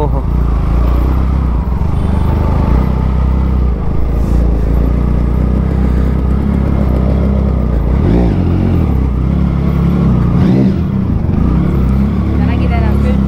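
A dyno-tuned motorcycle at a vintage two-stroke and classic superbike event revs loudly up close, its engine roaring and surging in repeated bursts, with people talking over it.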